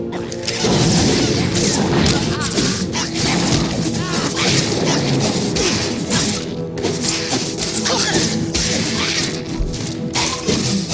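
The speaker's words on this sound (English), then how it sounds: "I heard the explosions when you set off the charges" Explosions from set-off charges in the video game Star Wars: The Old Republic: a dense, continuous run of loud crashes, booms and thuds layered with whooshing debris, sustained and heavy throughout, with no voices present.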